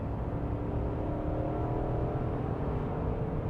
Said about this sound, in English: the exhaust note definitely tells you that this truck has plenty of horsepower